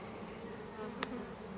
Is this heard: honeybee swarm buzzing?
yes